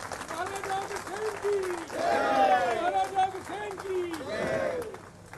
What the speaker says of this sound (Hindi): जब तक मुख्यमंत्री जी यहां नहीं आते तब तक जोरदार तालियां रखे